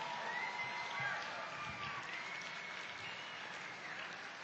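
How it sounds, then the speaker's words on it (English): Steady applause from a large audience in a hall, dense and continuous at moderate distance, honoring a full gospel tabernacle choir. "Let's give another round of applause to Reverend Green's Full Gospel Tabernacle Choir."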